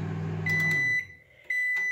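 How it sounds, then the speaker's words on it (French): A microwave oven heating soap hums low and steady, then stops with a series of sharp electronic beeps, a brief quiet and another beep, close up. "Vous surveillez. à la porte de votre micro-ondes et vous regardez, le savon est censé gonfler et donc faire des nuages."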